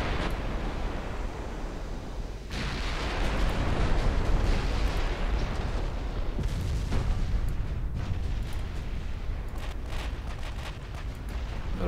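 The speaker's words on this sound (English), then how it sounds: "We get a flash fire on something." Naval battle in Ultimate Admiral Dreadnoughts, Italy 1943, with a dense, continuous roar of ship gunfire and explosions that swells after a short lull, with crackling bursts layered over the rumble and no talking.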